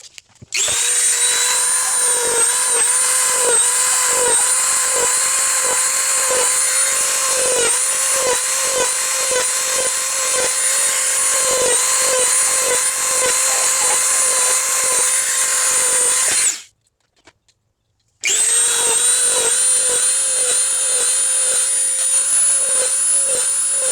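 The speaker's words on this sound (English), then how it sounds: "to drill out these holes, just a Dremel" A Dremel rotary tool drilling out holes in a prop Han Solo blaster, a loud continuous high-pitched whine with rapid stuttering pulses as the bit bites, cutting off briefly near the end before resuming.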